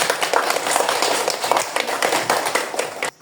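A classroom of students claps for a group that has just finished presenting, a dense, steady patter of many hands filling the room for about three seconds before cutting off abruptly.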